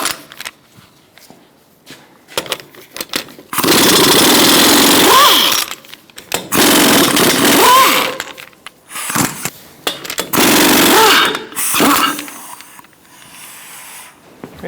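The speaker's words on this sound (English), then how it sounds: "Remove your lug nuts using a 21mm socket." An impact wrench with a 21mm socket removes the lug nuts on a 2002-2006 Toyota Camry 2.4L L4, sounding as three loud whirring, rattling bursts of a few seconds each, separated by quieter clicks and handling noises.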